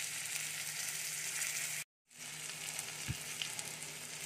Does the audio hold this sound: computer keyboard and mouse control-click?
no